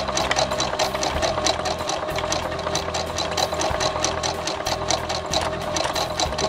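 A sewing machine runs steadily, zigzag stitching over two pieces of cord guided under the presser foot, its rapid even needle chatter continuous and close for several seconds.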